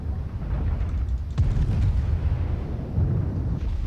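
Deep booming naval cannon blasts from the battleship Amagi in a video game thunder over a dense rumbling roar, with a sharper crack near the middle and another heavy boom toward the end.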